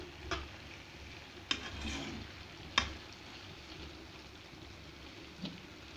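Pumpkin pieces cooking in a frying pan, a quiet low sizzle broken by a few sharp clinks and scrapes of a utensil stirring, about four distinct strokes spread across the stretch.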